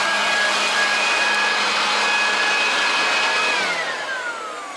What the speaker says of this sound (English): my father has a blower. Let's test it out.